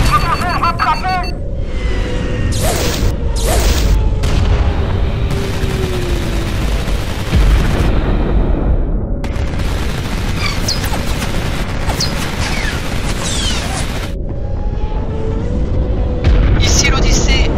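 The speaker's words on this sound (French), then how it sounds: "les tirs ennemis endommagent gravement la coque" Enemy gunfire and explosions strike a ship's hull during a film battle, heard as a loud, continuous barrage of blasts and rattling impacts. Voices and other sound-effects layers run beneath throughout.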